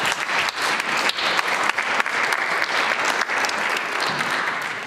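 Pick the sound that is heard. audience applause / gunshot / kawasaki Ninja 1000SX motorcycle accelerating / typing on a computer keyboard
audience applause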